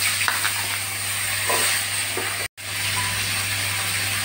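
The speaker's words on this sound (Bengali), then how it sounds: "এমনি এবার কেটে ধুয়ে রাখা নতুন আলুগুলো ভালো করে ভেজে নেব।" New potatoes, cut and washed, sizzle steadily in hot oil with a bay leaf tempering, a continuous hiss with a low hum beneath and a brief gap midway.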